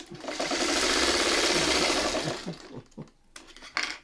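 A sewing machine stitches a seam on a fabric fish project in a steady, fast, whirring run of about two and a half seconds, then stops, followed by a few quieter clicks and handling sounds.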